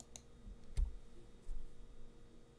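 A couple of sharp mouse clicks while working in Houdini 20.5 software, quiet and close, with a faint click at the start and a louder one near the middle.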